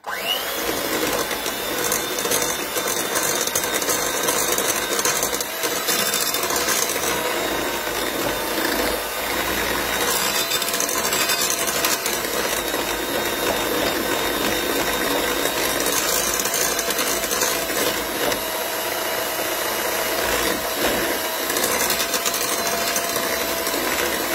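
A whisk mashes three very ripe bananas in a bowl for banana loaf batter, giving continuous loud, close clattering and squelching scrapes throughout.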